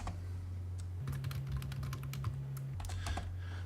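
Light, quick clicks on a computer keyboard as a short command is typed into AutoCAD, followed by a key press; several soft taps over a low steady hum, with no talking.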